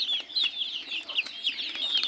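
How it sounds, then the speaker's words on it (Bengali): Backyard chickens cluck softly in a steady, overlapping chatter while pecking at papaya leaves, close by with no talk. "আমার মুরগিগুলো কী সুন্দরভাবে দেখতে পাচ্ছেন পেঁপে পাতা খাচ্ছে"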